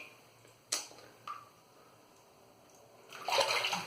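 Water splashes while soap scum is rinsed off a safety razor, with a couple of short clicks or knocks first and then a brief running-water rush near the end.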